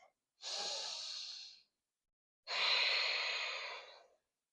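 Two long, deep breaths during a yoga hamstring stretch, each a steady airy rush lasting over a second, close and clear with silence between them.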